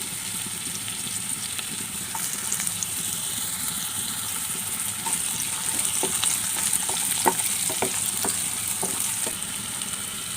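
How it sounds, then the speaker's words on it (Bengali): Green chilli, onion and chopped tomato frying in a pan, a continuous close sizzle with scattered crackles and pops and occasional stirring scrapes, steady throughout with no voices. "কাঁচামরিচ পেঁয়াজটাকে হালকা ভেজে নিচ্ছি এতে আমি দিয়ে দিব সামান্য টমেটো কুচি"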